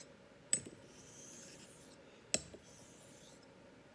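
A Simmons Hardware No. 8 double concave straight razor honed on a Japanese natural finishing stone, quiet sliding rasps with two sharp taps as the blade strokes across, close and alone.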